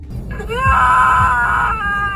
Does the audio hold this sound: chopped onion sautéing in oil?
no